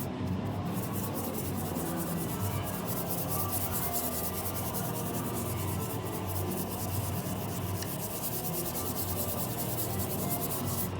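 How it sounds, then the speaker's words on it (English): Wax rubbed by hand across a Kiss pinball machine playfield, a soft, steady scrubbing and swishing that continues without pause, fairly close and quiet. "Just kind of move it all over the place, all over the field, just to kind of like get the wax on there."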